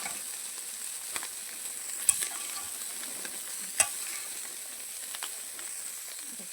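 Spinach stirred and cooked in a pan at home, giving a steady hiss and sizzle with a few sharp scrapes of the spoon against the pan.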